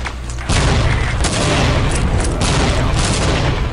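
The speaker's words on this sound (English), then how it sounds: "it felt the push from said explosion" An explosion booms in a capture-the-flag video game, followed by sustained, dense gunfire and rumbling blasts, loud and continuous.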